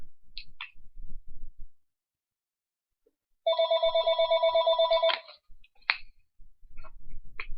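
A telephone bell rings in a steady burst of repeated trills lasting under two seconds, loud and close, with faint ticking and low background noise before and after.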